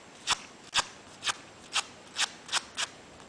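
Paper petal of a dianthus flower curled against a scissor blade, giving seven short dry scraping strokes at a steady rhythm, close and crisp with quiet pauses between.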